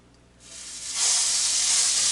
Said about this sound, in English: Got a nice little sizzle in that cast iron.